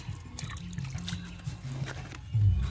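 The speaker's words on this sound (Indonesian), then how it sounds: "Ini nemu air hujan, nggak apa-apa lah, kita siramin aja" Rainwater being poured onto a potted plant's growing medium, a soft close trickle and splash that thickens into a heavier pour near the end, with no talking.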